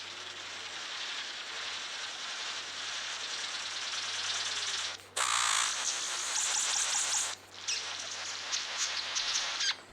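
A King of Saxony bird of paradise in Papua gives a loud, continuous buzzing call that runs steadily, then briefly breaks and resumes rougher and more intense, with no talking over it.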